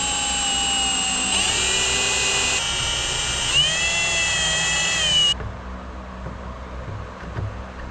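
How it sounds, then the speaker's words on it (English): A power drill bores small pilot holes for screws in a DIY console table, its high whine running steady then dipping and recovering as the bit bites, before cutting off to quieter room sound. "we just have to do 2 small pilot holes for the included screws"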